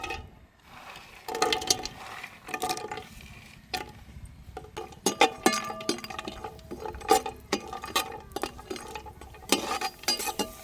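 Raisins and cashews fry in hot ghee for a festive pineapple kesari, with repeated metallic clinks and scrapes of a spoon stirring in the pan, in irregular bursts close by.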